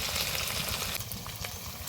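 Ground garlic, ginger and turmeric, chili powder and salt sizzle in frying oil, a bright, hissing crackle that fills the pan, loud and close, easing slightly partway through, with no one speaking.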